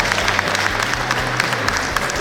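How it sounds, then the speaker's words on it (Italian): A crowd applauds contestants at a Miss Italia regional selection held at a Padua fairground, a dense, loud, continuous clapping wash over low hum, with faint voices mixed in. "un applauso per tutte loro"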